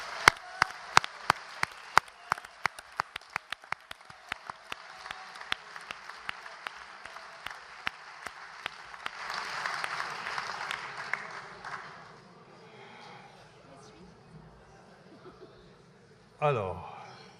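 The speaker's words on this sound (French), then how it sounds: "Vous pouvez applaudir." An audience at a trade union federation congress in Dijon claps after election results are announced, a steady patter of many hands that swells and then fades out. A voice comes in briefly at the end.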